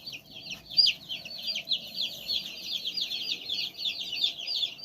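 Meat chickens in a warm barn holding about a hundred birds, a dense, continuous chorus of chirping and clucking, close and steady, with no talk over it.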